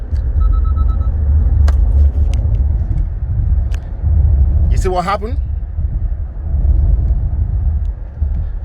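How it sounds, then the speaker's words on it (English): A car rolls along a clear road after its engine is switched off mid-drive and the transmission drops into neutral, giving a steady low road rumble while someone speaks briefly over it. "The car engine went off, and then the transmission went to neutral automatically."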